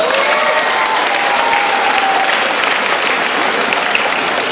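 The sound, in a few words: audience applause at a sea life seal show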